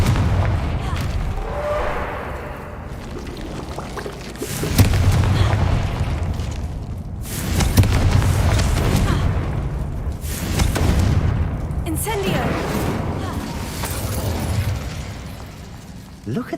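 Repeated fiery Confringo spell blasts go off in Hogwarts Legacy, several heavy booming explosions spaced a few seconds apart with rumbling tails between them.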